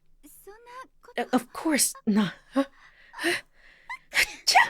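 A character in the game Never 7 - The End of Infinity sneezes once, sharp and close, amid short bursts of spoken dialogue and a gasp-like breath.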